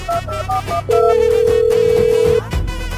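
A telephone call tone sounds alone, short beeps of a dial sequence followed by one long, loud steady tone lasting about a second and a half.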